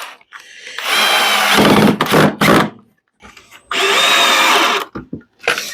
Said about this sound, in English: I can throw the 2 screws down here on the end, get those screwed in